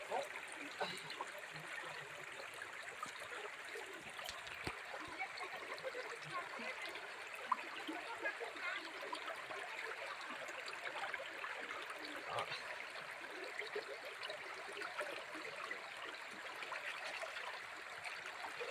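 A river stream flowing over slippery rocks in the Sonjhari river near Khandi Ghat, Sambalpur, a steady broadband rush and trickle of water that stays continuous and even throughout, heard alone without voices.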